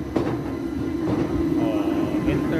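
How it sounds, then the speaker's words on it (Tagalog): A Swiss train bound for Interlaken Ost rumbles steadily nearby with a loud continuous hum, clattering wheels and faint squeals, like riding aboard or standing beside it. "Ito na yung aming tren papuntang Interlaken Ost."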